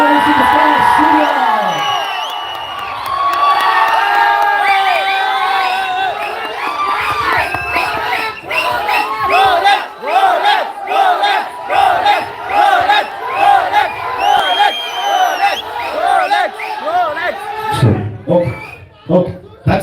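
A press-meet crowd screams, whoops and cheers loudly to welcome the actor Suriya, a dense roar of many voices with rhythmic chanting bursts that continues for nearly twenty seconds.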